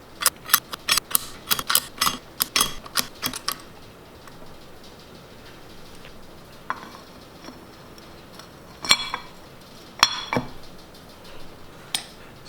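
Metal clutch plates for a KX250 motorcycle clink and tick as they are fitted, a quick cluster of sharp close taps followed by quieter scattered clicks and a couple of later isolated clinks.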